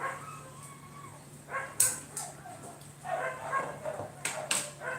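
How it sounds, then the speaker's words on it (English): Several dogs bark and yip in irregular bursts, some sharp and close, others farther off, over a low steady hum. "the dogs are even louder than I am"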